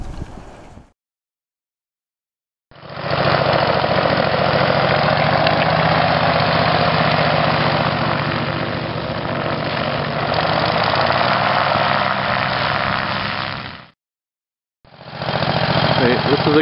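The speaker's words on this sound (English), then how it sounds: "Notice how the unit is running, charging up under the parking brake." A Green Eagle PPC paramotor with a carbureted engine and front disc brake idles steadily at close range, a continuous loud drone broken by two short silent gaps.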